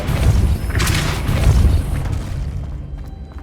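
A Depulso force spell blasts in Hogwarts Legacy on Xbox Series X as a loud, deep boom with a rumbling low body that swells, holds for about two seconds, then fades out with a few faint metallic ticks.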